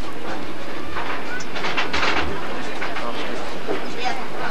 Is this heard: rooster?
no